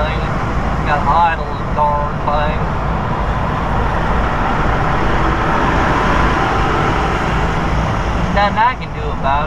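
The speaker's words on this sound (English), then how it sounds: "I gotta idle this darn thing." A truck's diesel engine idles steadily in a parking lot beside other rigs, a loud continuous low rumble throughout. Brief squealing tones rise above it near the start and the end.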